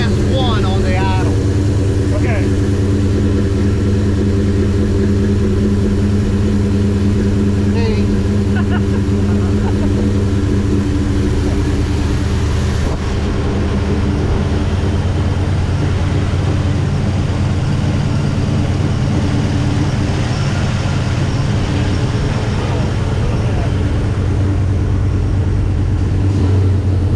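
Chevrolet Chevelle SS 454 V8 idling steadily with a Holley Sniper EFI, a loud continuous low rumble running the whole time, with a faint shift partway through and some nearby talk underneath.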